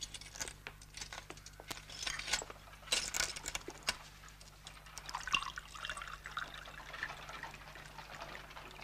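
A drink poured into a glass, a quiet liquid trickle with scattered small clinks and drips over several seconds, fairly close and soft, with no talk.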